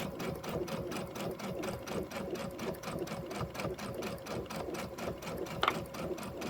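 A sewing machine stitching quilting fabric, its needle driving a fast, even rhythmic clatter of regular stitches that runs steadily and close, with a brief sharp click near the end.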